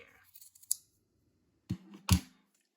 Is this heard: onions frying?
no